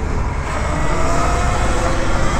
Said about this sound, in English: Oh shit, motorcycle cop